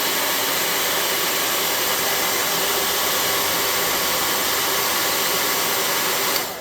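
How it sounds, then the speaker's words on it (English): A hair dryer blows steadily and loudly at close range, drying glue on model terrain trees with a constant whooshing roar that cuts off at the end. "I'm going to hit that with a hair gun real quick."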